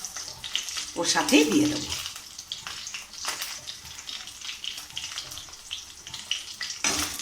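Egg frying crisp in mustard oil in a pan makes a low, steady sizzle with intermittent crackles, soft and close, while someone talks over it.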